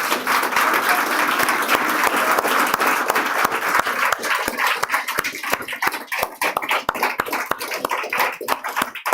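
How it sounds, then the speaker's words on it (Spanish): A church congregation bursts into applause during a Spanish-language sermon, dense clapping that thins out into scattered, distinct individual claps toward the end. "Pues eso merece un aplauso al Señor."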